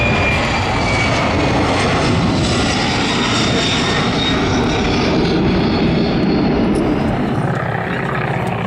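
Vintage radial-engined aircraft pass overhead at an air show, a loud, steady, rumbling engine drone that fills the whole stretch with little change in level.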